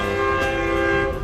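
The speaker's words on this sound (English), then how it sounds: "this is a pretty good place to be as the train comes whipping by" A train in Bangkok rumbles past with a steady tonal hum and horn-like drone, loud and close, with no talking.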